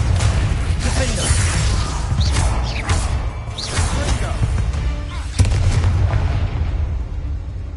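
Confringo fire spell bursts in the Hogwarts Legacy video game, with loud booming impacts and crackling blasts layered over a dense rumbling combat backdrop and a sharp hit near the end.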